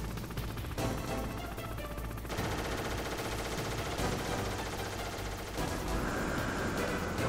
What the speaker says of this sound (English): I think he's gonna start shooting again.